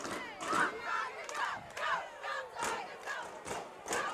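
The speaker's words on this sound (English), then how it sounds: "These cheerleaders have gotten this crowd stomping and cheering" Crowd at a high school football game in Tiger Stadium, Cocoa hosting Eau Gallie, chanting and cheering in rhythmic surges, with voices rising together roughly every half second as if stomping to a beat.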